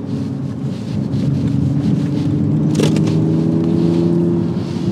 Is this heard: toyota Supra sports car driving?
yes